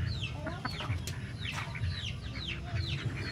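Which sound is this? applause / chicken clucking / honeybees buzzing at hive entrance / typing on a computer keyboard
chicken clucking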